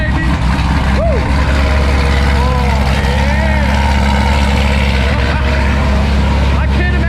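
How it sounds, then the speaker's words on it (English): A heavily modified 1,000-horsepower Corvette ZR1 with a flame-shooting exhaust after two weeks unused, its engine roaring with a deep, steady, loud idle that fills the whole stretch, with voices faintly above it. "So this is going to be quite the cold start."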